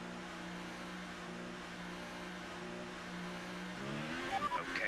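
A race car in a racing video game pulling away from the pit exit, a steady droning engine note that rises in pitch as it accelerates, with faint tire squeal toward the end.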